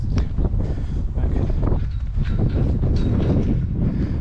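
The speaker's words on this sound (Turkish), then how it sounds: "Çok rüzgar var." Strong wind roars against the microphone at the Nesin Mathematics Village in Turkey, a loud low rushing buffet that barely lets up throughout.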